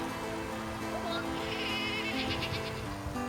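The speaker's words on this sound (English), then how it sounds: "I'm just going to check the sheep a minute." A sheep bleats faintly in short wavering pulses over steady outdoor background noise on a farm.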